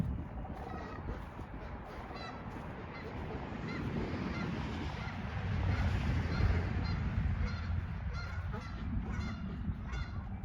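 Wild geese honk repeatedly outdoors over a rural property in early spring, a ragged chorus of calls at moderate distance over a windy background, with a voice faintly present.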